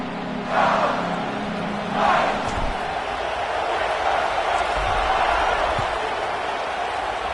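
A college football stadium crowd roars continuously from a distance, a dense wash of cheering with a couple of louder swells early on. A commentator's voice runs underneath.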